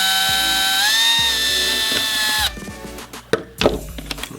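A power drill whines steadily while drilling a second hole in the plastic casing of a CoComelon Chase toy, then cuts off, followed by scattered clicks and handling taps.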